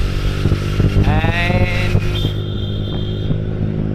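A Triumph Street Triple motorcycle with a loud exhaust revs up close, the engine note climbing in rising sweeps and then settling into a heavy, rough idle.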